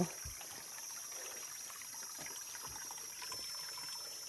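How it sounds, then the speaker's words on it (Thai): Mountain water trickles and gurgles steadily at a low level downhill, a faint continuous babble with a high background hiss. "เสียงน้ำไหลแล้วนะคะนี่น้ำไหลลงไปจากบ้าน น้ำภูเขา"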